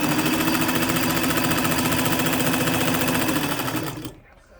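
A Kenmore 95 sewing machine stitches at a steady fast clatter, loud and close, its rapid needle rhythm running continuously before cutting off abruptly near the end.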